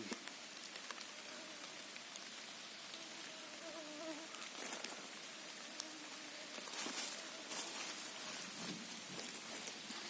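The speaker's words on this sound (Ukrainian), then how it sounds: "дощик іде." Light rain patters softly and continuously at a chanterelle-picking spot in Rivne region, Ukraine, with a thin insect whine drifting in and out over the drizzle.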